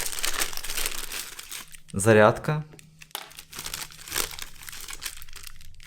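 A small plastic packet from a remote-control BMW drift car kit crinkles and rustles in a brief close burst, with someone talking before and after.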